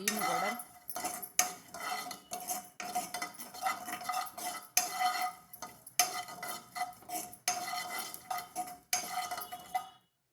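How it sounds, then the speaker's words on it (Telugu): Cumin seeds dry-roasting in a pan, with a spoon scraping and clinking against the metal in repeated bursts of stirring and a faint crackle beneath, ending in brief silence. "ఇంట్లో 2 స్పూన్లు జీలకర్ర దోరగా వేపుకోవాలండి."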